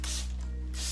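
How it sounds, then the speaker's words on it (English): Two short hissing spritzes from a spray bottle misting water onto brushed, parted hair, one at the start and one at the end, close and fairly soft over a low steady hum. "then spray it with water"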